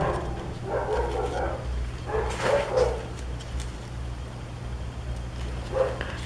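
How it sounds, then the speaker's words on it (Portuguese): A neighbour's dog barks in the distance in a few scattered bursts against a steady background hum, faint but distinct. "Cachorro do vizinho arrebentando o portão ali."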